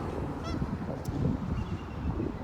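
Geese honk several times at a shellfish-rich shoreline with Dungeness and red rock crab, the calls fairly faint and distant over a steady outdoor wash of water and wind.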